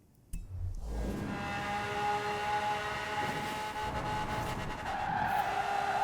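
Supercar tires screech and skid in a long continuous squeal while drifting in Forza Horizon 4, with the engine roaring loudly throughout and the pitch rising toward the end.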